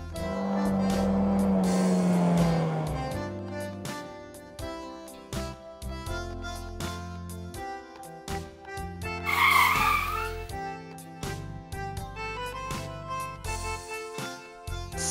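The race car Lightning McQueen skids with a loud descending tire squeal at the start, followed by bright children's music with a short whooshing burst near the middle.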